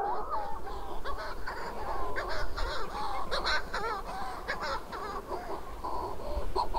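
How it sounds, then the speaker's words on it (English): A dense chorus of strange, warbling Manx shearwater calls rising and overlapping continuously at a colony, many birds at varying distances against a steady background hiss. "The otherworldly sounds are that of the Manx Shearwater, or Aderyn Drycin Manaw in Welsh, a pigeon-sized seabird"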